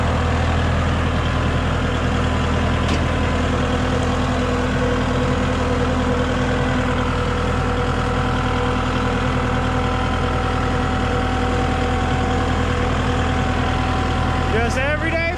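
A truck engine idles steadily throughout while a tree is pulled on a homestead garden plot, a constant low drone with a strong rumble and a faint whine above it, a voice speaking over it at times.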